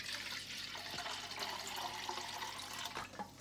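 Two cups of water poured into a pot of rice for Bhaji rice, a steady close splashing pour running the whole time with no talk.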